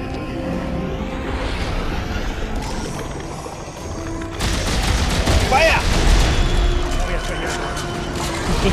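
Heavy gunfire from a big gun in the video game Dead Space 3, loud booming bursts layered with game effects and background rumble, with players talking over the action.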